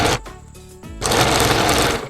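A sewing machine stitching a saree fall runs in a steady, close mechanical whir, quieter and broken at first, then loud and continuous in a fast run.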